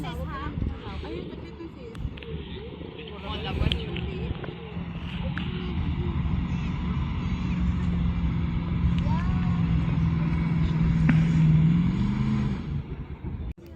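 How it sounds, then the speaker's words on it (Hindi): An SUV driving and spinning in a desert sand pit on a Dubai desert safari, its engine droning and revving steadily for over ten seconds under wind buffeting, with someone talking over it at first. "गड्ढे में ले जाके भाई क्या घुमा रहा है वो बंदा गाड़ी"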